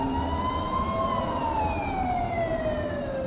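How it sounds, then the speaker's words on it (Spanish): An ambulance siren wails continuously at the scene of an intercity bus crash in Cundinamarca, Colombia, its tone sweeping slowly up and down over steady traffic rumble, loud and close throughout. "Ambulancias de los municipios vecinos comenzaron a llegar al lugar."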